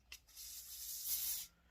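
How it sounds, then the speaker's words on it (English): Hair adhesive hisses from a spray can onto a wooden stick in one continuous burst of about a second and a half, preceded by a short tap, quiet and close. "So I'm gonna spray a little bit on my wood stick"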